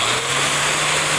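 A high-speed drill spinning at around 10,000 to 12,000 RPM while drilling shiitake mushroom logs gives a steady, loud, dense whine with a constant low hum beneath.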